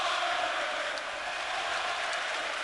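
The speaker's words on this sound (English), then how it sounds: "Listen to this crowd." A packed basketball arena crowd at a Golden State Warriors playoff game against the Dallas Mavericks, a dense, sustained roar of cheering that stays loud and even from start to finish.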